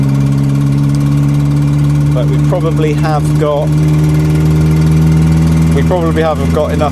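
The 1100 engine of a Renault 6 runs at a steady, loud idle with a low droning hum throughout, while people talk over it close by.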